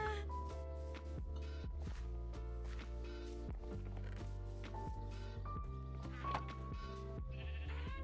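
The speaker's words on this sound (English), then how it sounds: "I need shears to get these sheep." Sheep bleating in a video game made with Godot, several loud bleats repeating over a bed of game music and soft squishy footsteps.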